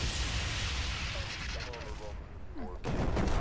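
Mech combat in World of Mechs brings steady, dense gunfire that rattles continuously under a layer of constant game noise, with one brief lull near the end.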